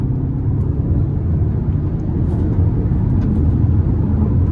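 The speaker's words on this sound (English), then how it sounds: "But we're gonna give it hard throttle here" A 2015 Hyundai Santa Fe Sport with the 2.0-liter turbo engine accelerates at hard throttle, heard from inside the cabin as a loud, steady, low engine rumble that holds unbroken throughout.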